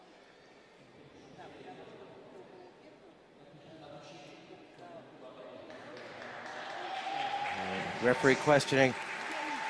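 Crowd at a fencing world championship bout in Kazan applauds, a soft, distant wash of clapping building gradually under a commentator's talk, with sharp metallic clicks and a few loud thumps near the end.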